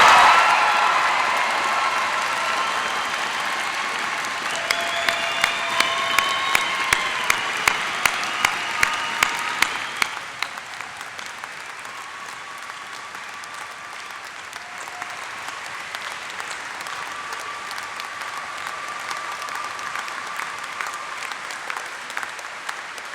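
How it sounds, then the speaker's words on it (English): A hall full of university graduates at a summer graduation ceremony bursts into loud, sustained applause with scattered cheers, the clapping swelling for about ten seconds before tapering into a lighter, steadier patter. "round of applause and a few cheers for yourselves"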